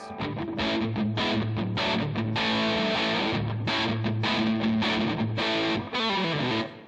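Electric guitar through an EarthQuaker Devices Gray Channel overdrive pedal, set close to a DOD 250, playing a loud, gritty run of rhythmic chords and riffs with sharp repeated attacks and no voices.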